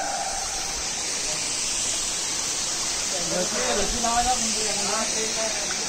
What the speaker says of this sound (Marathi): धबधबा बारीकच पडते.